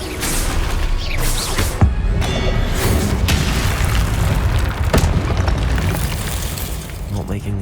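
Confringo blasting curse explosions in Hogwarts Legacy gameplay: loud booming blasts and crashes come repeatedly over dense combat noise, with in-game voices speaking throughout.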